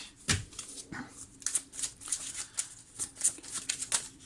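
Tarot cards shuffled for a card reading, a steady run of crisp riffling and flicking bursts, close and fairly quiet, with no talking over it.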